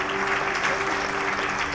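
A crowd at a college Independence Day cultural function applauds the students, with steady, dense clapping filling the whole moment at close range.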